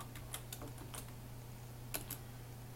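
Computer keyboard typing of web page text, a few sparse, faint key clicks in two short clusters over a low steady hum, with no talking.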